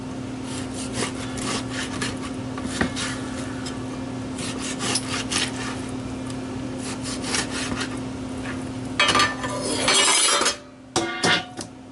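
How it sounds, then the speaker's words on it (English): A knife saws through the front of a USDA choice Black Angus top sirloin, giving repeated soft scraping strokes in a steady rhythm against a faint background hum, ending in a few sharper knocks. "I'm going to cut off this front part just to get down into the meat"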